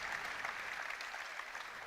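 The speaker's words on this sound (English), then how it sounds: "Universal applause." Steady, fairly distant applause from a crowd at an England korfball final, a continuous wash of clapping with no clear speech.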